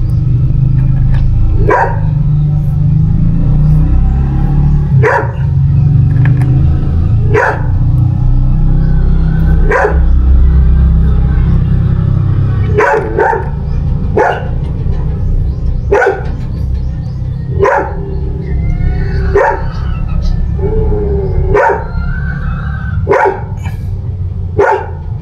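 A dog barks repeatedly in sharp single barks spaced a second or two apart, fairly close, over a steady low rumbling background.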